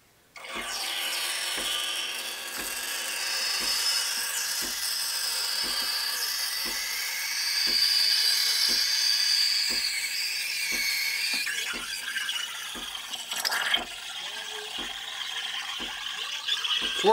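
Espresso machine steam wand frothing milk in a cup, a continuous airy hiss held steadily for about seventeen seconds, with faint regular ticking from the machine beneath it.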